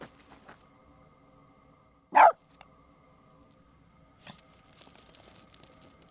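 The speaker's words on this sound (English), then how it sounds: "Do you even know what you're barking at?" Dog giving one sharp, fairly close bark in a quiet outdoor setting near a pickup truck camper, followed by faint rustling and small movement sounds.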